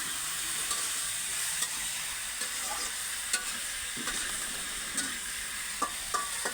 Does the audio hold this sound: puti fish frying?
yes